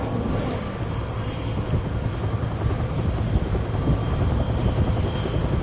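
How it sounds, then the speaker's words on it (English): A firefighting helicopter flies over a wildfire near Fontana, California, its steady rotor roar and engine drone filling the whole stretch at fairly close range, mixed with wind buffeting on the microphone. "you can see the helo"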